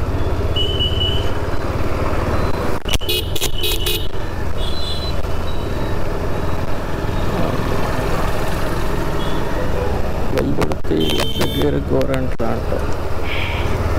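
Busy town road traffic on a motorcycle ride from Kurnool to Mantralayam, a constant engine and road rumble with several bright horn blasts around the middle and near the end, and a voice talking over it.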